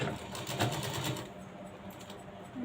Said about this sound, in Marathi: आणि डबल शिलाई घ्यायची म्हणजे लूक आपलं लवकर खराब होणार नाही